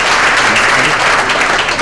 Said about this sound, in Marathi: जोरदार टाळ्या आपण त्यांच्यासाठी